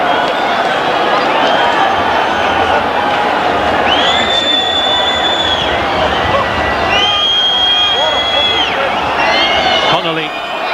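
Wrexham football fans cheer at the Racecourse ground during an FA Cup third-round tie against Ipswich Town in 1995, a loud, sustained roar with whistles rising above it while a commentator talks over the noise.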